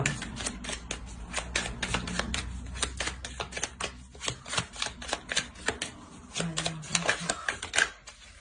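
Tarot cards being drawn and laid out during a reading, a steady run of quick dry clicks and snaps of card stock, close and fairly soft, with a faint low murmur underneath.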